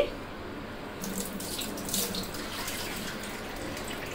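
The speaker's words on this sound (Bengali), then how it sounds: "এখন 3 কাপ পানি এখানে আমি দিয়ে দিচ্ছি।" Water from a cup is poured into a pot while making raw mango jelly, a steady close splashing pour that holds through the whole clip with small surges.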